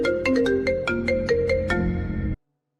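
A mobile phone ringtone plays a bright, repeating melodic pattern with regular chimes, loud and close, then cuts off abruptly.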